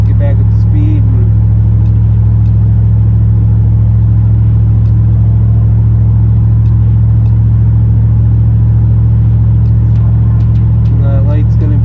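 A V8 vehicle pulls back up to speed on a rainy road, its engine holding a loud, steady low rumble throughout with little audible rise in revs.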